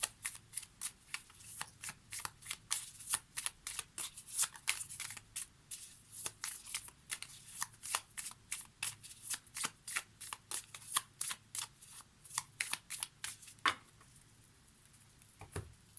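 Oracle cards shuffled by hand for a reading, a long run of crisp, rapid rhythmic riffling and flicking bursts, close and fairly quiet, easing off toward the end.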